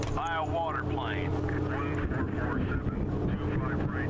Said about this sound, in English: Whole world's melting, so what do? Buy a water plane.